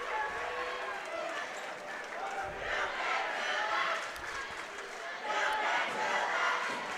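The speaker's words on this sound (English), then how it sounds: "The oldest "you can't do that" cheer." A high school basketball crowd in a gym chants the "you can't do that" cheer, a loud rhythmic wash of many voices.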